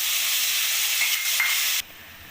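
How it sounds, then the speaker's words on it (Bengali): A ginger, tomato and green chilli paste hits a hot wok and fries with a loud, steady sizzle. The sizzle cuts down sharply near the end, leaving a quieter hiss. "আদা, টমেটো আর কাঁচা লঙ্কাটা মিক্সিতে পেস্ট করে রেখে দিয়েছিলাম সেটা আমি কড়াইতে দিয়ে দেবো"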